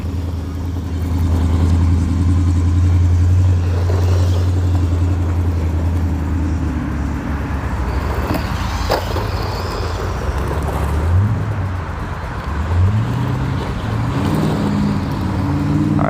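Traffic passes through a small market area, where a loud motor engine drones and shifts pitch against a continuous background of street noise.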